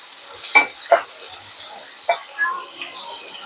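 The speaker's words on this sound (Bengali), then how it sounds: "আবার সমস্ত পেঁয়াজের সাথে এবং টমেটো একসাথে নাড়াচাড়া করে তেলের মধ্যে ভাজতে দেবো।" Onion, slit green chilli and chopped tomato stir-frying in oil, with a few sharp scraping strokes of the spatula over a soft, low sizzle; quiet between stirs.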